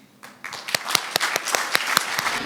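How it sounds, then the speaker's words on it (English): An audience claps after a scientific presentation on HDL and chronic disease, a fairly close burst of applause with sharp individual claps that swells after a quiet start and holds steady. "Please give her a big round of applause"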